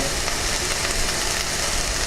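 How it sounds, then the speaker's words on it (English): Steady, loud sizzling from a stir-fry in a hot pan, a continuous crackling hiss without pauses. "You can hear that sizzle."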